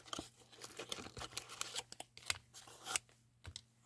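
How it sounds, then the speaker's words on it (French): A paper-and-cardboard advent calendar door is torn open, close and quiet, with a quick series of crisp ripping and crinkling bursts over a few seconds and no talking. "je vais ouvrir la case numéro 2"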